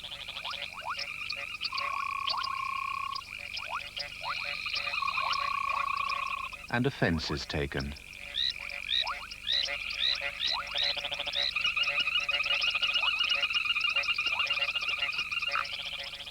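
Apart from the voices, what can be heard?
great grey tree frogs croaking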